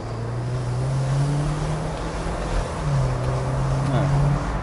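A Jeep Wrangler with an automatic transmission accelerates, its engine giving a steady low drone that swells and climbs in pitch twice as it pulls, heard from inside the cabin with road and wind noise underneath.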